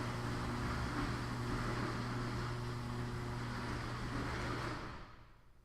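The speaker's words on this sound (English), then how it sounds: "The garage door opened and made a lot of noise." A garage door opens with a loud, steady mechanical rumble and motor drone that runs for several seconds, then cuts off and fades near the end.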